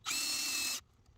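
A power drill fitted with a 1/2 inch bit bores a rope hole in a wooden tree swing support piece, a single loud, close whir lasting under a second before cutting off.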